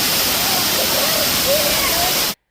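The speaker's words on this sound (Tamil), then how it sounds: "செம்மையாக இருக்குது வாட்டர் ஃபால்ஸு" A waterfall at Valanjanganam, Kerala, roars steadily with broadband rushing water, loud and close, ending abruptly.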